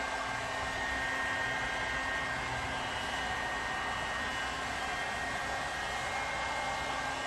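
Heat gun blowing a steady, unbroken hiss of hot air while post-heating vinyl wrap on a car fender near the window edge; constant and fairly loud throughout, with no talk.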